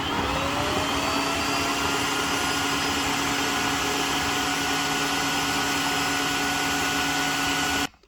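A Tineco Floor One S3 wet-dry vacuum runs steadily and loudly while cleaning floors, a constant motor whine with a faint rising tone early on, cutting off abruptly at the end.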